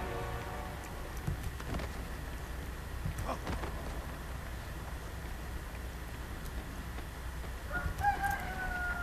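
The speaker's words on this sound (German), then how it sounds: "Hallo Hahn, schön, dass du auch mal wieder dabei bist." A rooster crows in Prince of Persia: The Forgotten Sands. A strained cock-a-doodle-doo rings out at the start and again near the end, over low ambient game noise.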